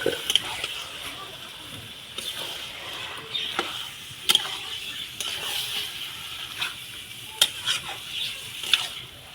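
Well-fried masala in oil in a pan, with cleaned and cut mutton spare parts going in: a hiss of frying under repeated scraping and stirring knocks, and a voice talking at times.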